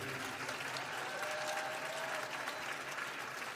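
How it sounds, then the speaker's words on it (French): Audience applause fills a conference session on music and change, steady dense clapping from a crowd sustained throughout, fairly distant and even in level. "Je voudrais juste qu'on applaudisse Philippe à la technique, Martin au piano"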